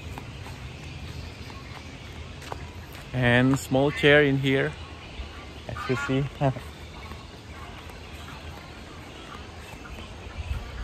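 Outdoors by a river in Australia, a few honking, quacking bird calls burst out in two short groups, fairly close, while a person speaks quietly nearby.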